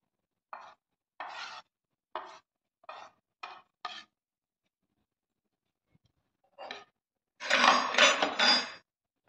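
Dry roasted gram flour is scraped and tapped into a bowl in a home kitchen, six short, separate metallic scrapes in an even rhythm. After a pause, a longer, louder run of clinking stirring follows, with no talking.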